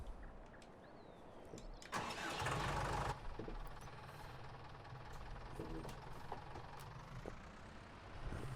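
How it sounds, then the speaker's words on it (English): A small tractor engine in a farming video game cranks and catches with a short loud burst, then settles into a quiet, steady idle rumble. "And let's get in this little tractor here."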